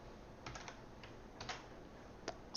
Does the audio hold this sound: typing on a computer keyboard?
yes